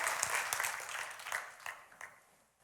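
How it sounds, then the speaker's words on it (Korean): A church congregation gives a brief round of applause, a burst of clapping from many hands that thins out and fades to scattered claps over a couple of seconds. "박수로 하나님 앞에 영광을 돌려드리십시다."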